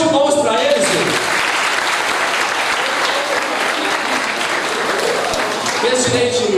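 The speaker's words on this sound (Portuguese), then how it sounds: "Uma salva de palmas para eles, gente." Full, sustained audience applause from a large crowd, thick and even throughout, with voices speaking briefly at the start and end.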